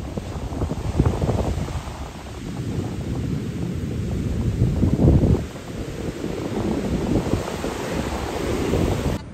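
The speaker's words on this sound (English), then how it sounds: "Getting the big waves are going." Big ocean waves breaking on a beach at Carmel, California, a loud, continuous roaring surge that swells and falls, heavily buffeted by wind on the microphone.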